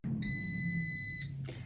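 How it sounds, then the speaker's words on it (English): Electronic beeping from an air fryer as a six-minute cooking cycle ends: one long bright tone, then a short second beep, heard close up over a low background hum. "And we've beeped."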